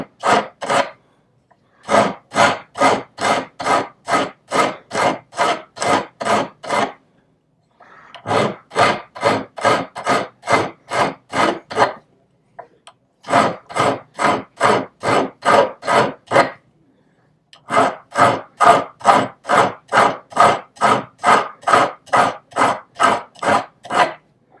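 Coarse file rasping across a Japanese seppa spacer, a long steady run of evenly paced strokes in four bursts separated by short pauses, loud and close with no talk.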